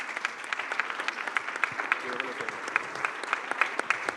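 Audience applause at a writers' festival panel in Mexico: brisk, crisp claps in a fairly sparse rhythm, with a voice briefly heard partway through.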